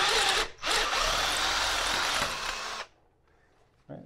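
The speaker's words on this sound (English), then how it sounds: "we drilled out the old hole" A power drill with cutting fluid bores out an old stripped threaded hole, whining loud and steady for about three seconds before cutting off into near silence, then a short final burst.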